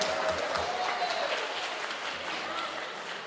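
Crowd at an outdoor summer jazz concert series clapping and cheering, a continuous spread of applause heard from within the audience, fairly even in level and tapering gently, with a faint tone or voice mixed underneath.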